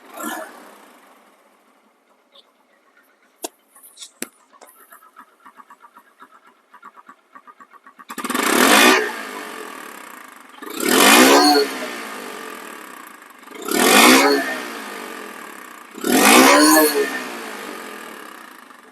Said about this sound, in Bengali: আপনাদেরকে স্টার্ট করে গাড়িটা এখন সাউন্ডটা শোনাই যে গাড়িটা সাউন্ড কোয়ালিটি কীরকম